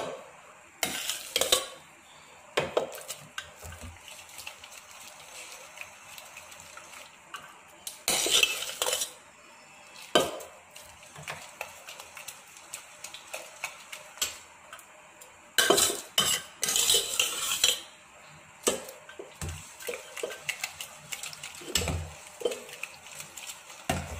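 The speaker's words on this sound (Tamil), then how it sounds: "நல்லா கிளறி கொடுத்துருங்க." A spoon stirring milk payasam in a metal pot: repeated scraping and clinking strokes against the pot, irregular bursts of louder clatter between quieter swishes, close up with no talk.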